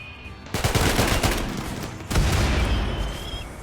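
Two loud bursts of turret gunfire ring out in the colony game RimWorld, each a rapid rattling volley, the second starting after a short gap, with no talking.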